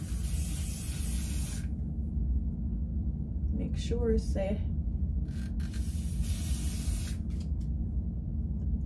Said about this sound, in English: I'm gonna have to spray down my hairline